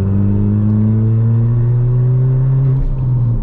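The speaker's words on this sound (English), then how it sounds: "Yeah, the Hornet exhaust is absolutely mint." Ford Fiesta MK6 Zetec S with a Hornet straight-pipe exhaust, engine note rising steadily as it revs in a loud, continuous drone heard from close inside the car.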